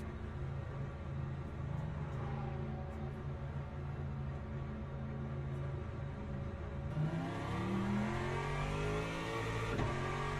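A race car engine in Le Mans Ultimate drones steadily at mid pitch, then rises sharply in a climbing rev as the car accelerates, loud and close with no talking.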